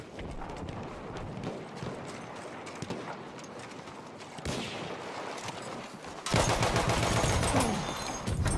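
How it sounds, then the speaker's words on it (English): Machine gun fire in the WWI shooter Battlefield 1, a dense, rattling stream of shots that turns louder and harsher toward the end. "Machine gun"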